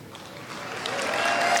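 A live audience breaks into applause that starts modestly and swells louder over a couple of seconds, a dense wash of clapping from a seminar crowd at a talk by author Wayne Dyer.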